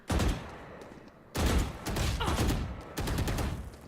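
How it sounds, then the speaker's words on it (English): Loud bursts of rifle fire erupt in a Valorant 1v1 tournament duel, three sustained volleys separated by short pauses, sharp and close with no voices over them. "able to get some body shots off onto Yoshi"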